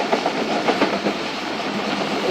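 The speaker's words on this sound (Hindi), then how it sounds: "सादिकाबाद रेलवे स्टेशन पास हो रही है ट्रेन" Train passing Sadiqabad railway station at night, heard from on board: a loud, steady rail rumble with rhythmic clickety-clack of wheels over joints and no talking.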